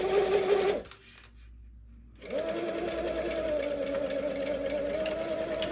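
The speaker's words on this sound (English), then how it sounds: "You want to start tacking where you want it to end and lead it back into the original stitching." A sewing machine stitches a slit in a garment alteration, a close rapid whirring hum that stops briefly for a near-silent pause, then resumes steadily and evenly until the end.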